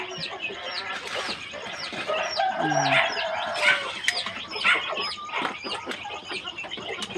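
Silkie chickens at feeding time cluck and squawk close by, with a rooster crowing in the middle, busy overlapping fowl calls and a few faint voices in the background.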